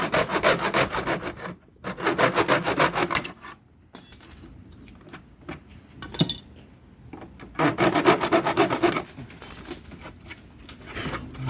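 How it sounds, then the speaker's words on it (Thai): A hand saw cutting during the installation of a Central Air Inverter 18000 air conditioner in a mansion, loud rasping strokes in rhythmic bursts separated by brief pauses, close and alone. "ตัวนี้จะใช้เลื่อยนะครับ"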